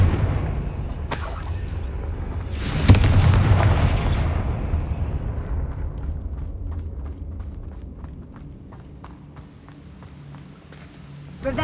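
Confringo spell blasts in Hogwarts Legacy burst in a loud, booming explosion that rumbles and slowly decays over several seconds, with scattered debris clatters and smaller crackling impacts trailing off before another hit at the end.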